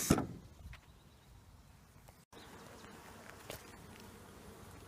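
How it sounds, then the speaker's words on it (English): Dense, steady buzzing of many honeybees close by at a hive in the late afternoon, continuing throughout after a brief knock at the start. "the bees are really active right now"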